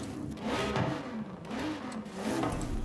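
Cadillac race car in Forza Horizon 5 revving its racing engine, a steady loud drone that rises and falls in pitch across a few surges, heard alone with no talk.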